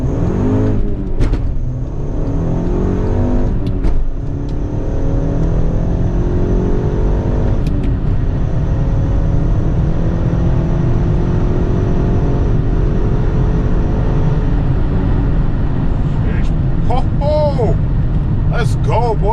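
Volkswagen MK6 GTI with a Cobb Stage 1 tune launching on a quarter-mile run, its engine loud and close with rising rev sweeps throughout, and people talking over it.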